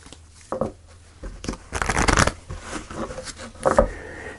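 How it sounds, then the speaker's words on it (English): Tarot cards are handled and shuffled in a quiet room, producing soft papery riffles and slides in a few short bursts, with one longer rustling shuffle in the middle. "So let's pull some more cards."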